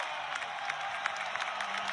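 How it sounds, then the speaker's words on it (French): A stadium crowd applauds Paul Pogba's return, a steady wash of clapping with scattered sharper claps and faint cheers, heard from some distance and fairly soft. "Tout le monde applaudit. Les gens sont debout,"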